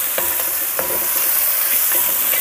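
Onion and curry leaves fry in hot oil with a steady, dense sizzle, while a spoon scrapes and stirs the pan several times in an irregular rhythm, close and fairly loud.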